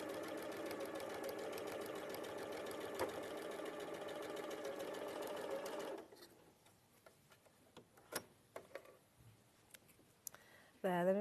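A sewing machine stitches steadily for about six seconds in a home sewing setting, a continuous fast mechanical whir, then stops, leaving quieter clicks and handling noises.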